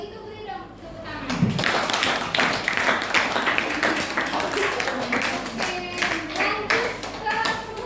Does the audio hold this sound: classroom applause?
yes